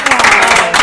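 A short, close burst of audience applause in an improv podcast studio, quick overlapping claps lasting under a second, with a faint voice mixed in.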